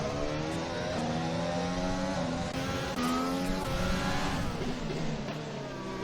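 Racing cars in a racing video game roar past one another during a DRS overtake at the Azerbaijan round, a loud continuous engine drone with rising and shifting pitch throughout.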